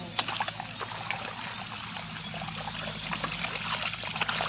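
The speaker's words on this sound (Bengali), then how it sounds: "আর এইদিকে জল যাচ্ছে।" Water runs steadily from a loose, separated pipe joint, a continuous close splashing and trickling rush that carries on without a break.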